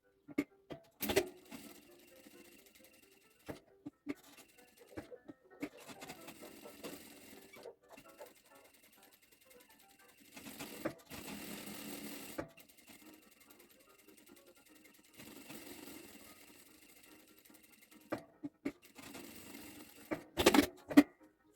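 A sewing machine stitches a fabric wallet in several short runs of quiet mechanical whirring, separated by pauses and small clicks, with occasional soft speech in between.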